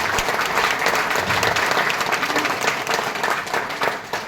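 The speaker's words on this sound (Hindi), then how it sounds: "तो अपने आप के लिए एक बार तालियां" Loud, sustained audience applause at a motivational business talk, many hands clapping densely and close for several seconds, tapering slightly at the end.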